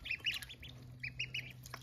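Several five-day-old mixed-breed ducklings (khaki campbell, rouen and pekin) peep outdoors in high, quick chirps in short bursts, close but fairly soft.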